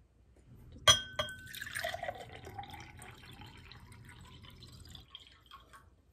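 Water poured into a glass for a water xylophone, beginning with a sharp clink of glass followed by a few seconds of close trickling and splashing that stops abruptly.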